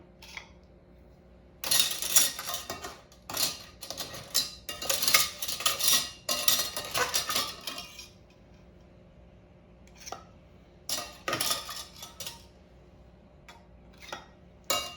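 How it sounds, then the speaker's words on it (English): Glass jam jars fresh from a sterilisation bath get metal lids set on them, giving clusters of light clinks, taps and rattles in uneven bursts with quiet pauses between, close and moderately loud. "I'm going to try and apply these lids without too much finger intervention here"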